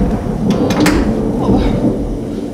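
Electric harp played with heavy distortion to mimic a thunderstorm: a loud, dense, rumbling roar with a few brighter crackling hits, continuous across the short stretch.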